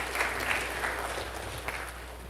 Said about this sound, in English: If you agree with me, clap now.